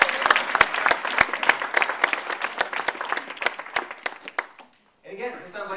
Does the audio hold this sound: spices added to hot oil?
no